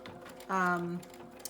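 Sewing machine running a straight stitch on a bag project in one short half-second burst of a steady whirring buzz, close and fairly clear, with quiet background otherwise.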